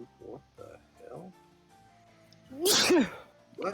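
A sneeze bursts out loudly near the close, a sharp broadband blast with a voiced wind-up, during a tabletop role-playing game session; scattered speech and quiet room sounds come before it.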